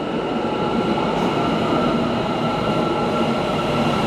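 A metro train runs through an underground station of the Soviet-era Almaty Metro, a loud, continuous broadband roar with a steady high whine, close and filling the space without a break.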